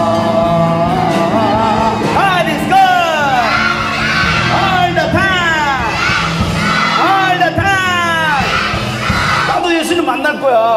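A church congregation shouts together at full volume during worship, a dense, sustained roar of many voices with repeated rising yells, loud and close throughout.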